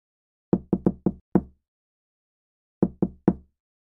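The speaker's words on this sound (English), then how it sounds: "Just gonna let him knock." Knocking on a door in an old radio drama, crisp and close: a quick burst of five raps, a pause of over a second, then three more knocks.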